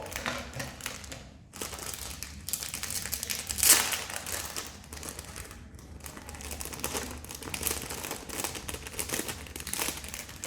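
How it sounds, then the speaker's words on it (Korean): Plastic packaging bag from a kids' science kit holding a battery holder, propeller and motor, crinkling and rustling steadily for several seconds with a sharper tearing burst near the middle, close and fairly quiet, no talk. "봉투를 열어서 이 안에 있는 내용물을 꺼내시면"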